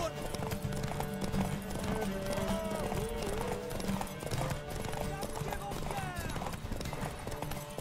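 Horse hooves clip-clop steadily in The Witcher 3, buried under busy game music, occasional whinnies and characters talking.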